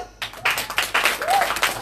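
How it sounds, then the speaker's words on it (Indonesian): Church congregation clapping together during a Sunday celebration service, a burst of hand claps that starts after a brief pause and continues steadily, with a faint voice cry over it. "Kita tes tepuk tangannya."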